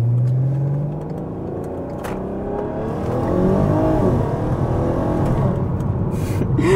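A loud Mk5 R car launches hard from a stop, its engine revving up through rising tones, steady and close throughout with no talking.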